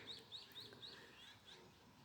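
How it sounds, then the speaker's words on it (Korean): Small birds sing in a spring forest of oak trees coming into leaf on Baekbongsan mountain: a faint, distant series of quick high chirps, evenly spaced about three per second, over soft outdoor ambience. "새들이 노래하는 소리도 들리시죠?"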